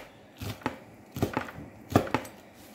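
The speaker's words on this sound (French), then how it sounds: "on va prendre les crevettes et on va les hacher très très fin" Raw shrimp being finely chopped with a kitchen knife on a board, giving three separate bursts of two or three quick close thuds each, loud and clear with no talk.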